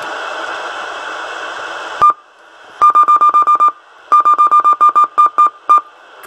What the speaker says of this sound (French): Par contre ce bip la vache, il me casse les oreilles.